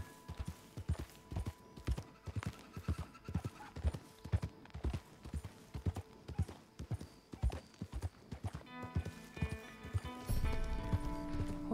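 Steady clip-clop of horse hooves in a Wild West video game, rhythmic and fairly close, with a brief neigh-like swell and musical tones rising near the end.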